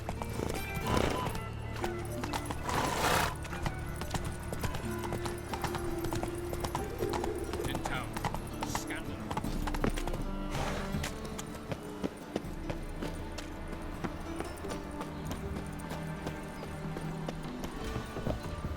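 Roach, the horse in The Witcher 3, gallops with steady, continuous hoof clip-clop and an occasional whinny, heard over a dense game soundtrack and ambience.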